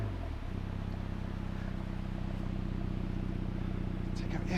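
A Mini's exhaust just after start-up, a steady low burbling idle close by with a deep even pulse, loud and continuous.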